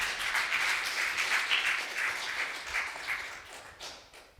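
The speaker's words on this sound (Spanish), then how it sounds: "Denle un fuerte aplauso al Señor Jesucristo." Church congregation in Utah applauding during a Spanish-language worship service, a moderate, steady patter of many hands that thins and fades toward the end.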